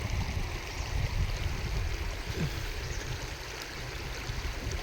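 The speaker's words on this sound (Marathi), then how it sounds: "बघा पाणी किती संत गतीने वाहत आहे." A river flowing slowly through the Konkan countryside, a steady, close, broadband wash of moving water that carries on unbroken, with no talk.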